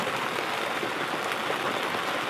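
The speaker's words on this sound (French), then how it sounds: "Nous pouvons écouter le bruit de la pluie sur la bâche." Rain patters on a yurt's tarpaulin covering in a soft, even wash of drops, continuous and close with no other sounds.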